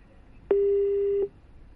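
A telephone busy tone sounds once as a single steady beep of about three quarters of a second, clear and alone over low line hiss, after a caller's phone call to a live Telugu astrology television program drops.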